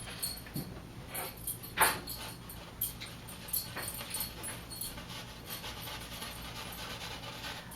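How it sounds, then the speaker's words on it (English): Several dogs whimper and pant softly in the background indoors, faint, intermittent yelps and whines scattered over a low hiss, with no one speaking. "The noise you hear in the background are my dogs."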